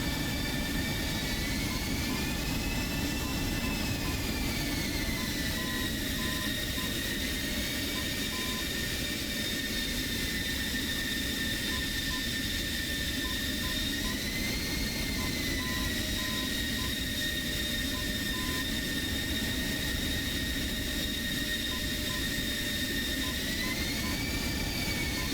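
Military jet aircraft taxiing in a flight simulator game, a steady loud engine whine and roar with wavering high tones that holds throughout, no voices.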